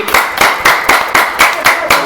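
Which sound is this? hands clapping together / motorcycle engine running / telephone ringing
hands clapping together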